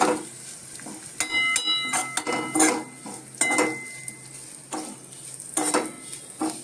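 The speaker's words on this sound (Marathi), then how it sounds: "आणि आता हे व्यवस्थित पुन्हा एकदा परतून घ्यायचं आहे." Grated dried coconut and sesame seeds are stir-fried in a pan. Irregular clinks and scrapes of a spoon against the pan sit over a light, dry sizzle, close and alone.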